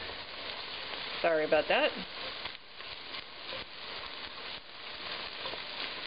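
Garlic sizzling in a pan while being stirred for Cajun crawfish étouffée, a soft, steady frying hiss with light stirring scrapes, briefly interrupted by a short spoken apology early on.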